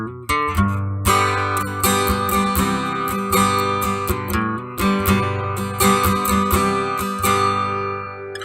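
Acoustic guitar captured straight from an IK Multimedia iRig Acoustic MEMS pickup, a bright, steady run of picked and strummed chords with a regular rhythm, loud and close with no talking.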